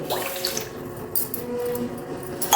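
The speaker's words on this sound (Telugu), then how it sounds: "ఒకటిన్నరకి కొంచెం ఎక్కువ రెండు గ్లాసులకి తక్కువ నీళ్లు పోసుకోండి" Water poured over washed rice in a vessel, set to soak for gongura pulihora: a continuous close splashing trickle with small clinks, steady for a couple of seconds, with no voices.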